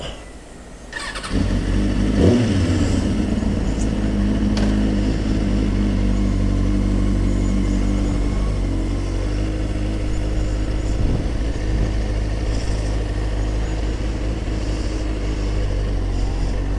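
A motorcycle starts up and pulls away to begin a ride, its engine catching after a brief quiet start and then running loud and close with a rev early on, settling into a steady rumble for the rest.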